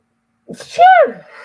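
A single close, loud sneeze with a sharp intake of breath before it, followed by a brief exhale.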